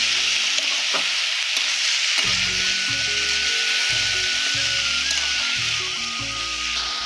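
Turmeric, cumin and coriander powders with salt and ginger-garlic paste stir-fried in a pan, a steady close sizzle broken by repeated scraping strokes of a spatula against the metal, with no talking.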